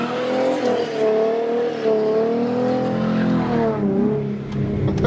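A manual sports car, a Mustang or Audi TT, snaps through a sideways 180-degree spin, its engine droning and wavering steadily with a strained, revving tone and a hint of tire scrub throughout.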